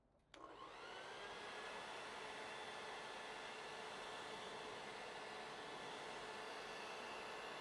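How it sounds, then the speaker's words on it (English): An old blow dryer switches on abruptly and runs with a steady, loud whooshing roar of blown air, heating fresh paint on a custom shallow crankbait. "Just the old blow dryer, nothing special."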